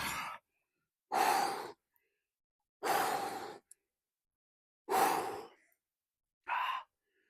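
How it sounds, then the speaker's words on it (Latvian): Someone bathing outdoors in a cold morning bath takes slow, deep breaths, five distinct inhales and exhales spaced about two seconds apart. The breaths are close and clear, with near silence between them. "Elpojam."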